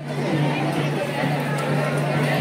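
Dense crowd at the Jyotiba temple in Kolhapur, a steady close babble of many voices with a low hum underneath, continuous throughout.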